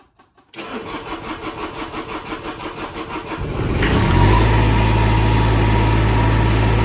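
A mini digger's diesel engine after new heater plugs were fitted, cranking with a rapid rhythmic churn for about three seconds before catching and settling into a loud, steady idle close by.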